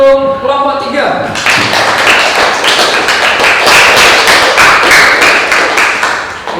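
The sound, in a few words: classroom applause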